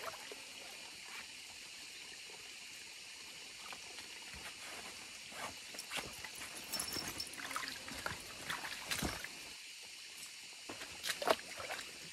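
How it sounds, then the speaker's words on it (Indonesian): Spring water seeping straight out of the ground trickles and gurgles quietly outdoors, a faint steady flow with occasional louder splashes and dribbles. "Ini air yang langsung keluar dari tanah seperti ini"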